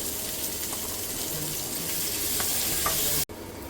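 Ponnaganti Galijeru leaves fry in a pan for a steady, close hiss and sizzle that hardly changes and cuts off abruptly near the end, with no talking.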